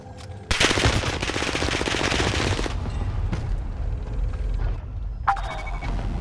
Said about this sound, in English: I'm shooting at you.